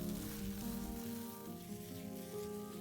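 Minced keema and tomatoes sizzle in a pan under a soft, continuous frying hiss while being stirred, with a faint hum beneath the sizzle.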